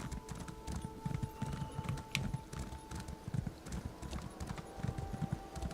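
Steady rhythmic hoofbeats of a horse trotting in the video game Elder Scrolls Online, clip-clopping continuously at a brisk pace, close and fairly loud, with no talking.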